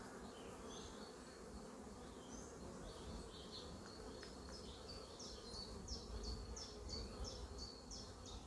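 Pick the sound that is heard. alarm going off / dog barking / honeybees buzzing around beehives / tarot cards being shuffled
honeybees buzzing around beehives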